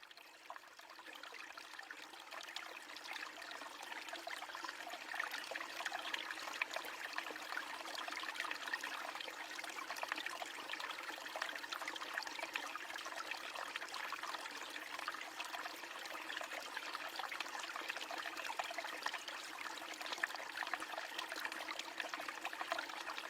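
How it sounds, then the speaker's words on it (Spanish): River water of the Danube, a continuous even rushing and trickling flow, moderately faint and steady throughout with no voices. "aquí en este caso de sonidos del río, del Danubio"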